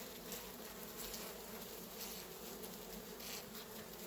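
Steady, dense buzzing of many honey bees close by at a small nucleus colony in winter, feeding on a pollen patty substitute, a continuous droning hum with no pauses and no voices.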